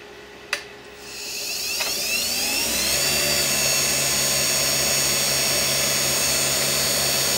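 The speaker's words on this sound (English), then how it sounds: "I've got it mounted on the lathe now, and I'm going to use carbide for this acrylic and stabilised wood hybrid" A wood lathe spins up quickly from a brief knock into a loud, steady high-pitched whir as a carbide tool works an acrylic and stabilised wood hybrid pen blank at high speed.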